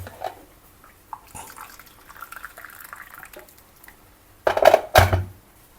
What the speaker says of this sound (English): And now I'm going to add in like 2 cups of water.